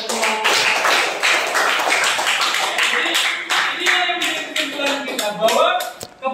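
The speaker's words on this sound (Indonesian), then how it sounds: "Tepuk tangan untuk kita semua." A classroom group claps together in a quick, somewhat rhythmic burst, close and lively, with a voice speaking over the clapping toward the end.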